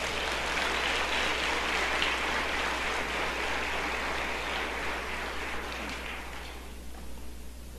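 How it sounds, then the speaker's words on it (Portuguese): A church congregation applauds in a steady, dense wash of clapping that fades slightly near the end, with a low hum underneath. "Se você crê nisso, aplauda o Senhor Jesus."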